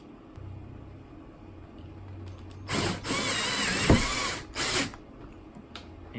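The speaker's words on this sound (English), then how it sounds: "a chisel tip that should drill into that steel piece that's up there" A power drill with a chisel-tip bit whirs in short bursts boring into steel, with a brief grinding thump in the middle and quiet pauses before and after.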